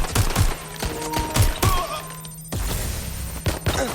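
Rapid bursts of gunfire and impacts in the video game Watch Dogs: Legion, loud and close, with several sharp shots clustered together and a steady tone running beneath.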